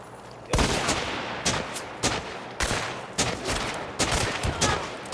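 Repeated heavy gunfire in Hunt: Showdown: about seven or eight loud, sharp shots at irregular intervals, each with a short booming tail, close and dominant.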